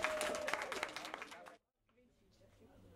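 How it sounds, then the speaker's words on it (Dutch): Dense applause from a crowd at a film awards ceremony, loud and lively for about a second and a half, then cutting off abruptly to near silence with faint room noise. "Applaus!"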